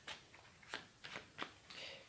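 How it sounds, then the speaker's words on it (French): Oracle cards laid one by one onto a card spread, with several soft, quiet slaps and slides of card stock, evenly spaced and close by. "on va mettre maintenant les cartes par-dessus"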